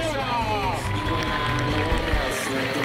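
Spectators at the Madrid half marathon cheer and applaud for the women's winner, a steady crowd roar mixed with clapping while an announcer speaks over the public address.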